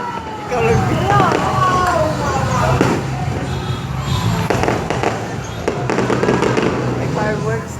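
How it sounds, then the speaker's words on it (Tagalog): Sinulog fireworks bursting over Fuente Osmeña, with repeated booms and crackles scattered through a busy outdoor crowd, while people close by chatter and exclaim over the steady noise. "Oh, may fireworks dire."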